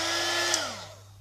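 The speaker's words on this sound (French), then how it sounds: "ça ressemble à un sèche-cheveux, mais ça chauffe beaucoup plus qu'un sèche-cheveux" A heat embossing gun blows hot air with a steady, loud whooshing roar and motor hum, its pitch sliding lower as it winds down near the end of the short burst.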